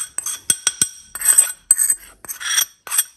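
A teaspoon of turmeric going into a dry bowl for a homemade skin remedy: a close series of light metallic clinks, taps and brief scrapes of spoon against bowl, irregular and crisp, with no talking.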